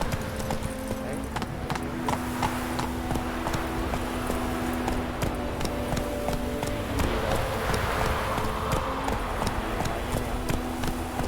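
Galloping horse hooves in The Witcher 3 drum steadily under wind and game ambience, a continuous close clip-clop rhythm with a low droning tone running beneath.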